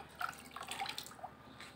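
Water is poured from above onto potted succulents, giving a soft, faint patter of drips and trickling over the leaves for a couple of seconds.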